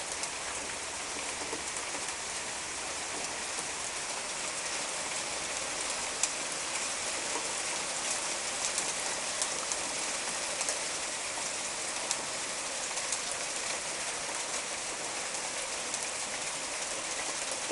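Small hail falls steadily through a long hailstorm, a dense, even patter and hiss on surfaces that carries on without a break, with no voices.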